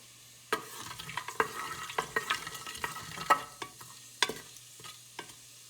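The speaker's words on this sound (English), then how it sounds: "And about for 2 minutes, just let them cook in the oil." Spices frying in oil in a pan for a biryani, giving a soft sizzle under sharp irregular scrapes and knocks as a spoon stirs them, fairly close and quiet, with no talking.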